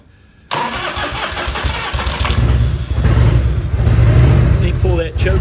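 A 1997 Harley-Davidson Heritage Springer motorcycle cranks and fires up abruptly after a quiet moment, settling into a loud, close, throbbing idle that swells slightly, with a voice heard briefly over it.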